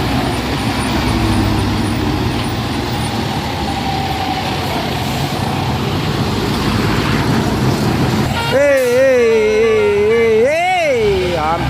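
A dump truck and other traffic climb a hill road, their engines droning loud and steady and rumbling past close by, before a voice breaks in over the engines near the end.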